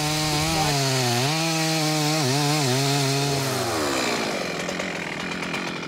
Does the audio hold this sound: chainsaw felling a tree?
yes